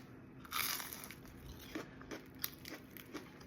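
Bites into a crispy fried bankora pastry give crunchy, crackling chews, several short bursts close to the mic and fairly faint, with no talk.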